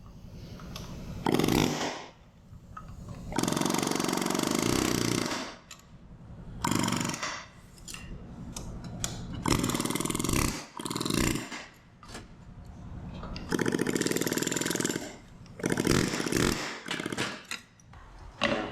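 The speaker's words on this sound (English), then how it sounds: "I'm hoping we can break it with the air hammer" A pneumatic air hammer rattles against a bearing race in repeated bursts, loud rapid hammering that starts and stops several times with short pauses between.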